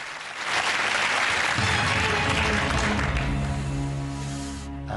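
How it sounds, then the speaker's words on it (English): Steady applause from a TV game show studio audience on Family Fortunes fills the room, with a low musical tone rising underneath partway through. "wife is again shown applauding"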